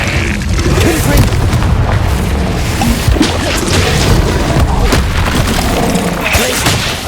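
Confringo fire-blast spell in the video game Hogwarts Legacy, a dense, loud rumbling explosion that fills the clip continuously, layered with crashing impacts and battle effects.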